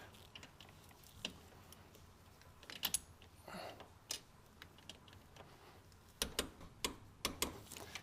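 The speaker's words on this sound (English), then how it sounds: "Click, click. That one's torqued." A torque wrench on a Lotus Elise clicks as a new shock bolt is tightened, giving a few light, sharp ticks spread over a faint background, some doubled, fairly close.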